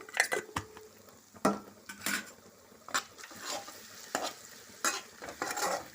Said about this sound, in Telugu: ఒక 5 నిమిషాలు ఇలా వేయించుకుంటున్నానండి, పచ్చివాసన పోయే వరకు